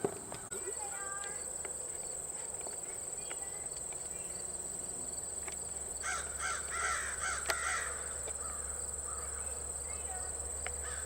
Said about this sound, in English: There's plenty of crows around here, cawing and cawing.